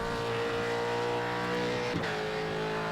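V8 Supercar race car on a circuit, its engine droning steadily and loud, with a brief dip near the middle as the driver brakes and downshifts two gears.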